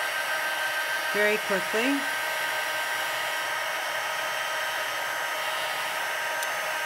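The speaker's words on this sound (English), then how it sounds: "One thing about heat embossing is you've got to be careful you don't burn your fingers." A heat embossing gun blows hot air over card stock in a steady, loud, continuous whoosh, with a brief spoken phrase near the start.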